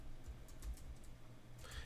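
Soft key clicks from a computer keyboard while writing Python code, light and scattered over a low steady hum, with no talking.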